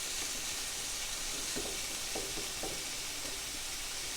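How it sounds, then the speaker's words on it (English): Beef strips sizzle in a frying pan, a steady close hiss with a few soft clinks and stirring scrapes, and no voices. "I've just thrown my beef in. This is going to cook really quick."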